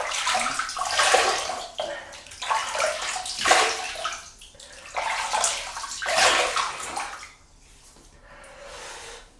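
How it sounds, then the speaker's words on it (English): Water splashes in bursts as hands scoop water onto the face before a shave, several sloshy splashes in a loose rhythm, close and fairly soft, then a quieter trickle at the end. "So I'll wet the face."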